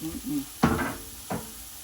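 Garlic hits a hot pan with two bursts of sizzle, a sharp hiss each time followed by a softer crackle, close and fairly loud with brief quiet between.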